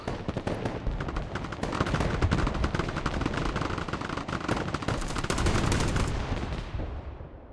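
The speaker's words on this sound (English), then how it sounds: "Now this Bradley does have an incredibly powerful autocannon." Bradley autocannon firing in the Broken Arrow video game: rapid, dense bursts of heavy automatic gunfire that roll on loud and nearly continuous before tapering off at the end.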